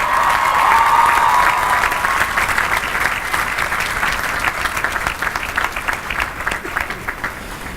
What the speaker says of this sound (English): let's give a big round of applause to the graduating class of 2017